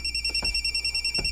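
A cellphone ringing with a fast, warbling electronic ringtone that pulses steadily and close by, with no talk over it.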